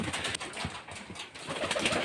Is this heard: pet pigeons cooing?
yes